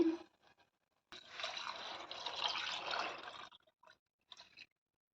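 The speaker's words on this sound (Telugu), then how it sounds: "మనం చింతపండు వాటర్ పోసుకోవాలి." Tamarind water poured into a pan of fried tomatoes and pepper powder, a gushing pour of about two and a half seconds after a brief sizzle, followed by a few faint drips.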